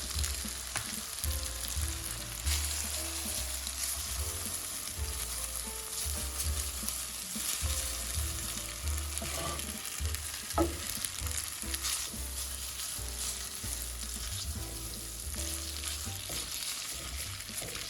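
Fresh pasta frying in a hot pan for a salmon recipe, with a steady close sizzle, recurring scrapes and clatter as it is stirred, and no voices.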